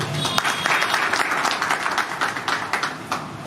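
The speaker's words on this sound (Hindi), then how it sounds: "तंहिं करे आशीष भाई खे कमु ताली ॾियां।" A crowd applauds steadily for a few seconds at a Dussehra Shastra Pujan event, a dense, even patter of many hands clapping.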